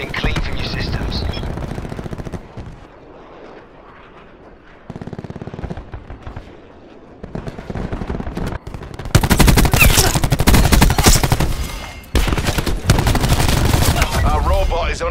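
Automatic gunfire and bursts of shooting aimed at an escorted robot in the video game MADDOX RFB, loud and dense, with a quieter stretch early on before heavy sustained firing and impacts dominate the second half.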